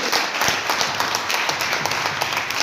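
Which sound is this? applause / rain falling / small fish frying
applause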